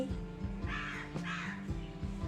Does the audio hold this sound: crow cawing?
yes